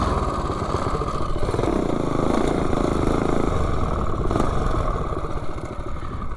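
A small-engine vehicle with a 30-series torque converter belt runs flat out in a top speed run, its loud, close, steady buzzing engine note holding throughout with a rough mechanical rattle beneath it.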